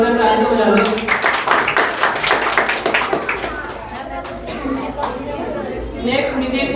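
An audience of schoolchildren and adults claps loudly and quickly at a school Republic Day program, with excited children's voices and chatter mixed in, before the applause thins out toward the end.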